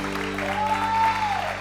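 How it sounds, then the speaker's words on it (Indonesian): Studio audience applause on an Indonesian TV talk show, a dense, even patter of clapping lasting under two seconds, with a faint tonal hum running underneath. "Tepuk tangan dong buat Global TV"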